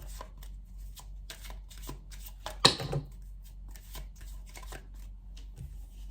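Tarot cards are shuffled by hand in quick, soft riffling bursts that repeat steadily, with one sharper slap of the deck partway through, heard close and fairly quiet.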